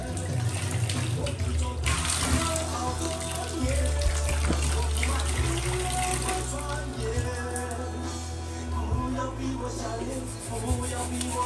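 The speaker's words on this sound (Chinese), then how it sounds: "两姐妹自己洗自己的鞋子。" Water runs steadily from a tap as two young children scrub and wash their shoes, a continuous close splashing stream with occasional brush scrapes and faint voices underneath.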